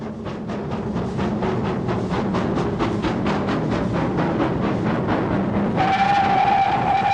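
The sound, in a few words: GWR King class steam locomotive King George V running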